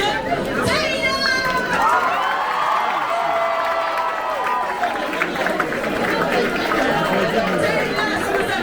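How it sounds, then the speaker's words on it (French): A festival crowd at a Japan-themed cosplay contest applauds and cheers the winner, a dense, steady wash of clapping and voices that stays loud throughout, with talk and a presenter's voice mixed in. "Taylor, sous les applaudissements"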